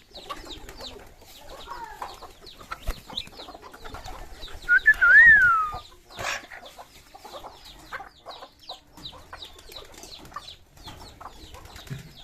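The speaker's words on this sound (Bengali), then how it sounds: "হাঁস মুরগি কবুতর সব একসাথে এই যে খাচ্ছে" Chickens, ducks and pigeons feeding together, with soft clucks and coos, scattered pecking and a louder rising call near the middle, close by amid light outdoor background.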